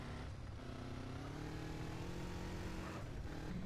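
A motorcycle engine in GTA San Andreas Definitive Edition drones steadily with a low, sustained motor hum, revving slightly toward the end, with no talk over it.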